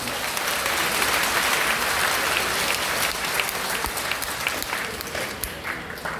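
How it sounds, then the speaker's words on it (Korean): An audience at a Korean community gathering applauds for a full six seconds, dense steady clapping that stays loud throughout, with scattered louder individual claps and no voice over it. "큰 박수 한번 해주시기 바랍니다"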